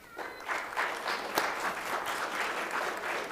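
An audience at an awards ceremony breaks into applause, a steady wash of clapping from many hands that holds at moderate loudness throughout.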